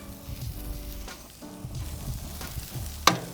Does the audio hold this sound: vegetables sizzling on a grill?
yes